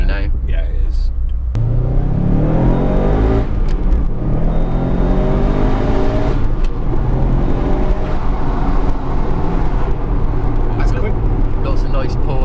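A Subaru Impreza WR1 accelerates hard, its engine rising in pitch through the gears with a loud, close in-car rumble, while voices talk over it.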